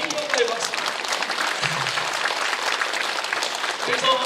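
A church congregation applauds at a revival prayer meeting, a dense spatter of hand claps with raised voices and talk running through it the whole time.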